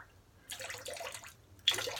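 A shaving brush is dipped in water: two short bursts of water splashing and sloshing, close and soft, separated by a quiet pause.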